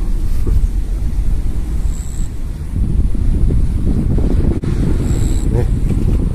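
Outdoor wind on a summer sunflower hill in a park in Ono, Hyogo, buffeting the microphone as a loud, steady low rumble that continues without a break.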